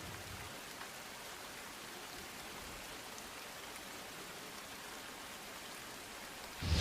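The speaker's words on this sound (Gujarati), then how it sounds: "અવિરત વરસાદના કારણે જળબંબાકાર જેવી સ્થિતિ ગુજરાતભરમાં ભરાઈ ગઈ છે" Continuous heavy rain pours down in a rural village area of Gujarat during flooding, a steady dense hiss throughout with a louder burst at the very end.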